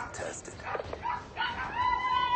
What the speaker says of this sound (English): Oh, the puppy's barking.